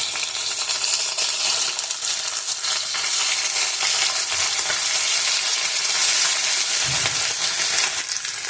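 Fish frying in an oiled wok, a steady loud crackling sizzle that runs without a break, with a brief low clunk near the end as the pieces are turned.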